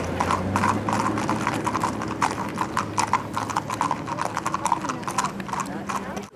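Horse hooves clip-clop steadily and loudly at a Civil War battle reenactment, a busy rhythmic clatter up close, with a low engine-like hum beneath and a brief whinny.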